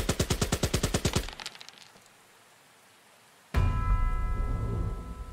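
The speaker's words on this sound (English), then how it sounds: "so let's open fire on him." Game sound effects of gunfire in a WW2 digital board game: a rapid, loud machine-gun burst of about a dozen shots, a near-silent pause, then a sudden sustained crackling barrage.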